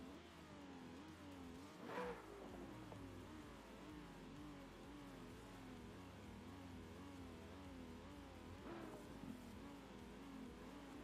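Drift-car engines, a Nissan 180SX and an RTR Mustang, idle and rev at a drift competition with a steady loud engine drone, brief rev swells around two and nine seconds.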